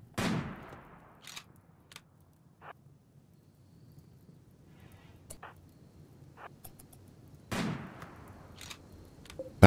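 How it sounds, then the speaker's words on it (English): Sniper rifle shots in RimWorld: two loud, sharp broadband cracks roughly seven seconds apart, with a few quieter ticks and pops between them over a low ambient bed. "That's a headshot with a sniper rifle."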